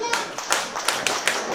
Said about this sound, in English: the crowd giving Blackwood a deserved reception here